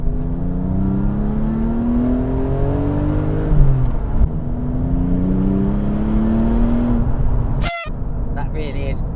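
A Porsche 996 GT2 with twin turbochargers accelerates hard, engine note climbing steadily through gears in loud rising sweeps with a brief shift break, heard from inside the car.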